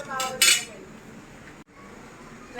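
Metal ladle clinks and scrapes against a pan while sautéing for sinigang, a couple of bright clattering knocks up front followed by quieter stirring noise.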